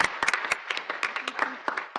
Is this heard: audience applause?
yes